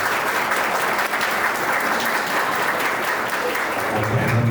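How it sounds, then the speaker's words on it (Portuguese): An audience at a public hearing on watershed planning breaks into sustained applause, a loud, uniform rush of clapping that continues for the whole stretch with little change. "Uma salva de palmas, por gentileza."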